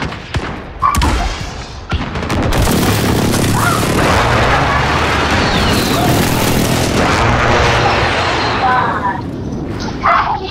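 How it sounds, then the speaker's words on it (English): Precision airstrike explosions in Call of Duty: Modern Warfare (2019) on the Arklov Peak map, a dense, loud booming barrage that starts with sharp blasts and rolls on as sustained rumbling for several seconds. "Be advised, friendly precision airstrike inbound."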